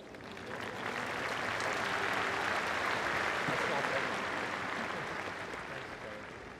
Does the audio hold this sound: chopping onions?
no